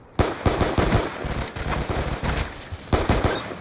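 A Tac-45 pistol fires in Black Ops 2 multiplayer, sharp close shots coming in quick clusters and single cracks throughout, loud with no talk over them.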